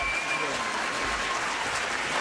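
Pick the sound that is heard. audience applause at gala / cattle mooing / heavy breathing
audience applause at gala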